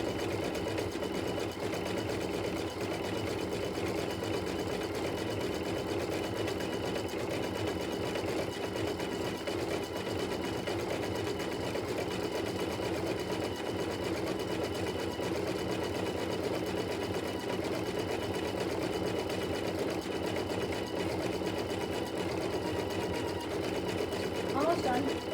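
An embroidery machine stitching out a gnome table topper design, a steady, continuous mechanical whirring and rapid needle rhythm running unbroken throughout at close range.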